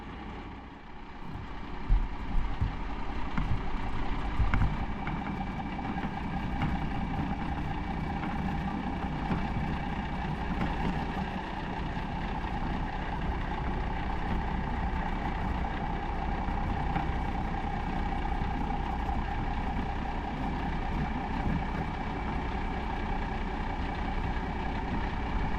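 A truck engine idles steadily for the whole stretch, a low, even rumble that barely changes, with no talk over it.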